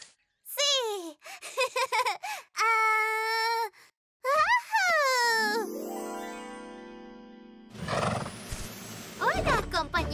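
A horse neighs in a cartoon adventure: several high, shaky whinnies come in short bursts, loud and close, followed by swelling music and more whinny-like cries near the end.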